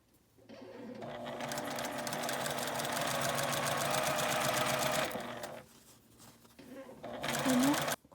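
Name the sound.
sewing machine stitching a lunch bag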